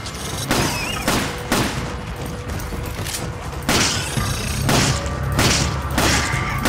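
Pistol shots in Resident Evil 5, several separate loud reports spaced unevenly a second or so apart over a continuous rumbling background.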